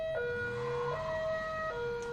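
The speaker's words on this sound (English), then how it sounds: "I kind of like that police sound." A police siren sound effect in a European two-tone style, alternating steadily between a higher and lower pitch, clean and continuous with no talking.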